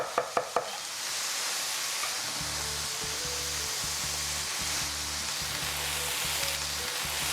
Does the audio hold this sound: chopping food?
yes